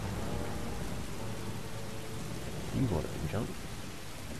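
Steady rain hisses in The Last of Us, with possible low rumbles of distant thunder beneath. A voice speaks briefly near the end.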